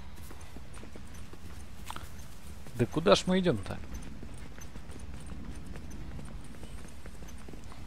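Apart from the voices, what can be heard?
horse hooves clip-clopping, from the video game The Last of Us: Left Behind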